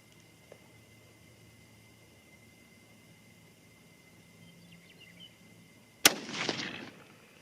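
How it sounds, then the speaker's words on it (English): A single sharp rifle shot from a .22-250 Remington fired from a cold, clean bore, cracking loudly near the end after quiet with a brief rolling echo. "First shot's cold bore, clean bore."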